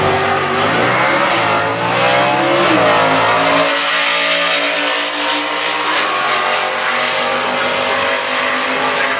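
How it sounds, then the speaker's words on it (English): A loud stick-shift stock-class drag racing car revs hard and roars through gear changes at a drag strip, pitch climbing, dropping, then climbing again, close and sustained, with a faint voice underneath. "This is a stick shift car."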